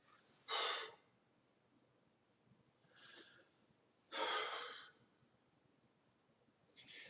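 Several breaths are pushed out forcefully through the mouth during a qigong breathing exercise, each a short breathy whoosh, with pauses between them in a quiet room.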